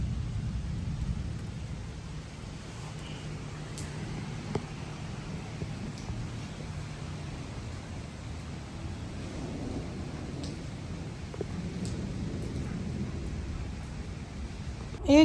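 Steady rain falls outdoors, partly on a shed roof, with low rumbling thunder rolling beneath a constant wash of drops for the whole stretch.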